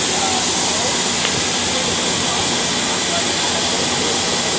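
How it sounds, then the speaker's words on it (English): Grand Canyon Railway steam locomotive GCR 4960 releases a loud, continuous broadband hiss of steam, steady and close for several seconds without a break. "the steam train is now boarding."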